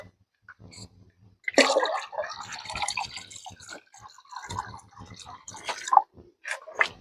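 Water is filled into a clay pot at a farm, with intermittent splashing, dripping and gurgling pours in uneven bursts, close by and moderately loud.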